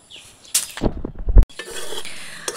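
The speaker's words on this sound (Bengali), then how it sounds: "মা এখানে খই পাক দিচ্ছে।" Puffed rice (khoi) is stirred in a pot over a clay stove on a rooftop, with a scraping, rattling flurry of stirring strokes that ends in a sharp knock, then settles into a soft, steady hiss.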